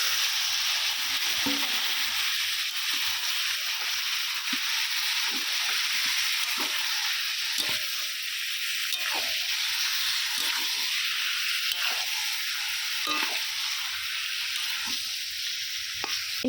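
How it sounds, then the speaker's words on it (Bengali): Marinated chicken sizzles steadily in a hot pan, a loud continuous hiss with occasional scraping stirs and lid movements, no voices. "চিকেনটা আমি খুব ভালো করে কষিয়ে নেব মাঝে মাঝে চাপা খুলে নেড়ে নিচ্ছি যাতে না তলাতে লেগে যায়"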